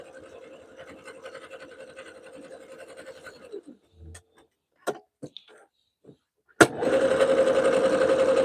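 A sewing machine stitches cotton soup bowl cozies with cotton thread and Pellon wrap and zap batting, whirring steadily and quietly, then pausing for a few clicks and taps before starting up again louder and faster.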